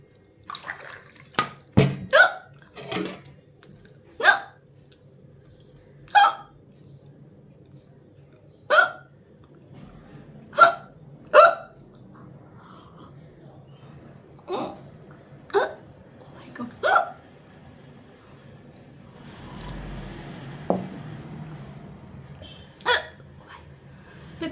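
A long series of abrupt hiccups at irregular intervals, loud and close, with a brief soft rustle between them.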